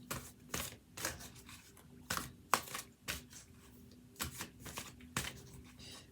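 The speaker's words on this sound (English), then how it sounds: "I'm just going to shuffle for each one versus shuffling and cutting" Tarot cards being shuffled by hand in repeated short riffling bursts, close and crisp, separated by brief pauses over a faint steady background hum.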